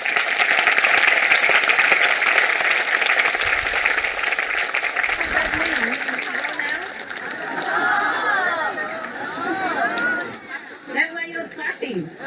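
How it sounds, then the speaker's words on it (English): An audience claps steadily and fairly loudly for several seconds, then the applause thins out into scattered claps, with a voice speaking over the tail end. "That's why you're clapping."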